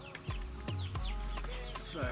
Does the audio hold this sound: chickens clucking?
yes